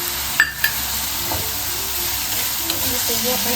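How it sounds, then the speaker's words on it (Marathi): Chopped tomatoes hit browned onions in a hot pan for pav bhaji, giving a steady close frying sizzle with a couple of brief stirring scrapes near the start. "आता आपण याच्या टोमॅटो घालूया"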